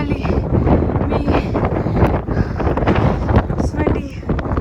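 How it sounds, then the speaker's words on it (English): Strong wind buffets the microphone outdoors on a hilltop overlooking the sea and houses near Lauenburg, a loud, continuous rumbling roar with gusty surges and rustling throughout. "It's really windy."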